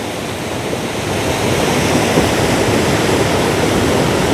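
Sadhery waterfall in Samahni roars as a steady broadband rush of falling water, loud and close, swelling slightly after the first second and holding constant with no voices.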